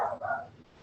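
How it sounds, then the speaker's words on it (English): Dogs bark indoors, a loud yelping burst at the start and a second shortly after, then fading into quieter room noise. "Sorry about the dogs."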